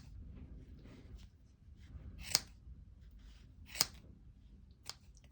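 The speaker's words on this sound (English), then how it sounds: "just sort of go directly up and snip all the loops" Scissors snip through the yarn loops of a crochet double pom pom for a baby hat, two sharp distinct cuts with a fainter third, close and quiet against a soft low background.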